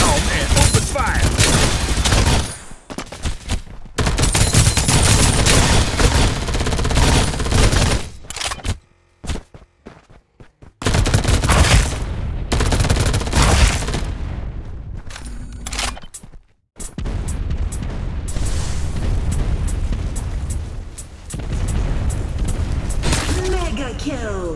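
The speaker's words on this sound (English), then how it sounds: "Time for some artillery. Oh man, open fire." Artillery fire and explosions in the video game Farlight 84 come as dense, loud bursts of booms and rapid gunfire, broken by brief silences across the stretch.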